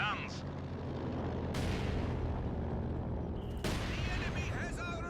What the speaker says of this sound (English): And these mortars going to town here.